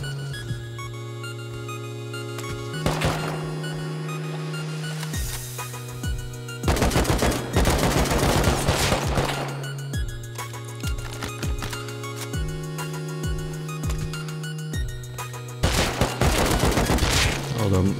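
Loud bursts of automatic gunfire rattle out repeatedly in the survival video game Rust, layered over a steady in-game drone, with shots clustered in rapid volleys throughout.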